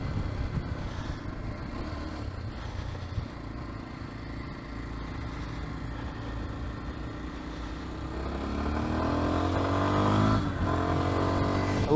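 A Kawasaki KLX230 motorcycle is ridden with a steady engine hum and wind rush. The engine grows louder and rises in pitch toward the end as the rider accelerates.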